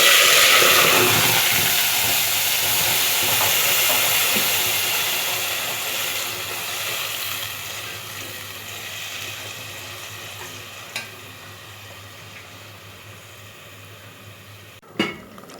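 Onions hit hot oil with fried cumin in a pan for an egg and potato curry, setting off a loud hiss and sizzle with stirring that slowly fades, ending with a sharp utensil clink on the pan.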